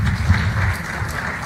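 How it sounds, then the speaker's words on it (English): An audience at an investment summit in a Vijayawada hotel claps in sustained applause, loud and close, with no voices over it. "Mr. Lokesh Nara, can we have a round of applause, please?"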